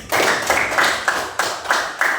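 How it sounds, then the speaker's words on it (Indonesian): A class claps together on cue, sounding as a series of sharp, rhythmic group claps, roughly seven in even succession, close and fairly loud with no talk. "Tepuk tangan dulu untuk semua."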